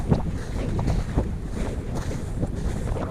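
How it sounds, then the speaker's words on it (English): Strong gusty wind buffets the microphone on top of Phillips Law, a continuous loud rushing roar with no voices. "I don't know if you can hear anything with that wind."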